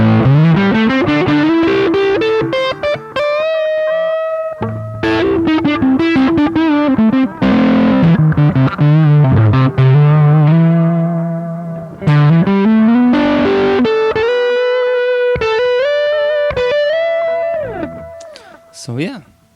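Heavily distorted electric guitar tone from a Godin A6 through a pedalboard including an EHX POG plays sustained chords and bending single notes, loud and continuous with effects-laden tone, fading out at the end.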